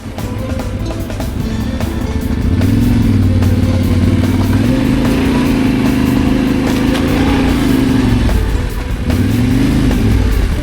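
A motorcycle engine drones loudly and steadily up close, its pitch rising and falling as the rider shifts and accelerates, with wind rushing throughout.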